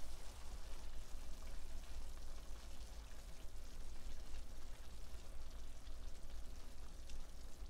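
Steak and garlic frying in a pan, a steady dense crackling sizzle like light rain, continuous and close with no talking.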